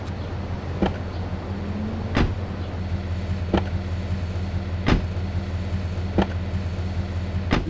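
A car cruises along in Grand Theft Auto III, a steady low engine drone with sharp clicking ticks recurring roughly every one to one and a half seconds, fairly close and without talking.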